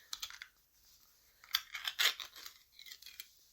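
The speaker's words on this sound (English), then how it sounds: "That's the sound of canned chicken breast." Canned chicken breast being opened and pulled apart: faint, crinkly tearing bursts come in short clusters, with a louder scraping flurry midway, and no talking.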